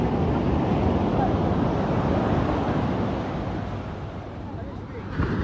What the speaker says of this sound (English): got to watch those waves